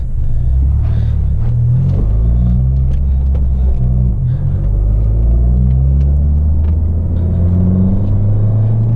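Fiat 500 Abarth engine rumbling loudly from inside the moving car, a deep, steady growl with small swells as the throttle changes, heard alone without talk.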